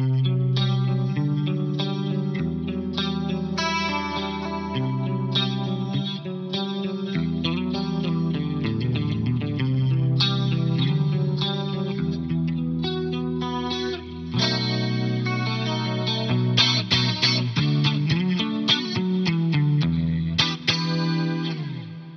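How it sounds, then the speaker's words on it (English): Electric guitar played through a lush tri-chorus effect, shimmering and wide, with sustained chords and busy strummed passages, loud and continuous without any talking. "This is just the straight up good old tri-chorus."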